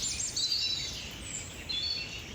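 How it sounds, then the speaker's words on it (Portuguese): Birds sing among the wet woods of Sintra, thin high chirps and trills that sound moderately distant over a soft steady background hush, with no one speaking. "Aves a cantarem em todo o lado, não sei se ouvem. Os pássaros a cantarem."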